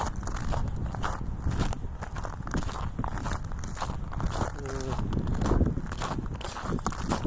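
Steady crunching footsteps on snow or frozen ground at -8°C, a regular walking rhythm close by, with a brief vocal sound.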